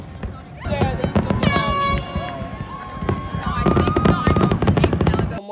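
Fourth of July fireworks burst and crackle in rapid, closely spaced bangs with whistling rising tones, loud and continuous, with a crowd audible in the background.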